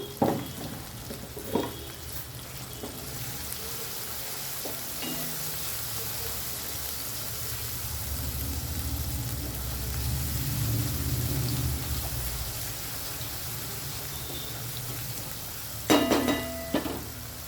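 Nalla fry cooks in a hot pan with salt added, giving a continuous close sizzle for the whole stretch. A couple of utensil clanks come at the start and again near the end, and no one speaks.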